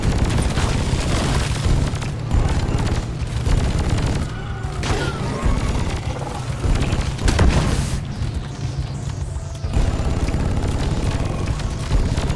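Rocket blasts and continuous explosive booms fill a hectic solo Deep Dive in Deep Rock Galactic, loud and dense throughout with overlapping game effects.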